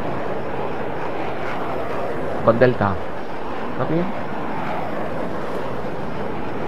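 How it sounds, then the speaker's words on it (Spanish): A fixed-wing airplane passes overhead in the Arma 3 military game, a steady broadband engine roar holding through the whole stretch while a radio voice speaks briefly over it. "Espera un segundo a ver si termina de pasar el avión, que no te oigo."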